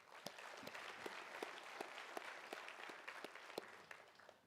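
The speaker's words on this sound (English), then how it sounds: "Please give Jacob Borst a round of applause." Banquet audience applauding for Jacob Borst at a South Boston Speedway awards dinner, a steady wash of many hands clapping with sharp individual claps standing out, moderately loud and sustained throughout.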